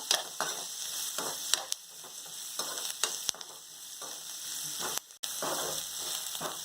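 Chopped onions sizzling in oil in a pan for tomato rice, with salt added, a steady close crackling fry broken by repeated scraping stirs of a spatula.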